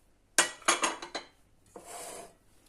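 A knife chopping onion on a board: four quick sharp chops in a row, then a short scraping sweep, close and clear with no talking.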